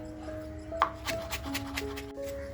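A knife chopping capsicum (bell pepper) on a board, a few irregular light cuts and taps close by, quiet and without speech.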